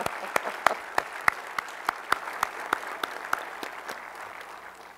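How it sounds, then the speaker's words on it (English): Applause from an audience at a Space Center Houston event, heard as sparse, sharp claps at a fairly steady pace that thin out and fade over about five seconds, with no talking. "I think that deserves a round of applause."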